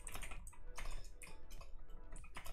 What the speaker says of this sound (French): Ah, j'arrive pas à écrire sur ce clavier,